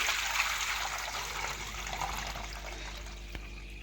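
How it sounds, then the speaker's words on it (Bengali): Thick, starchy rice soaking water is poured from a container into a bowl, a soft continuous splashing trickle, close and fairly quiet, with no talking. "এখন আমি এই ঘন জলটা ফেলে দেব এ দেখুন এই বাটিটা নিয়েছি এখানে এখন ঢেলে দিচ্ছি"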